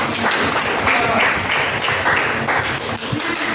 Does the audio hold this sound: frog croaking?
no